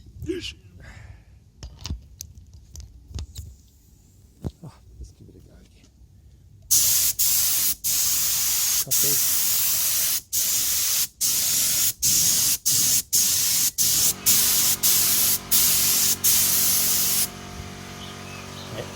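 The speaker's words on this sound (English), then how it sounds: "Take the spray gun again." After some quiet handling and a few spoken words, a spray gun hisses loudly, spraying paint on a mag wheel in a long series of bursts with short gaps between them.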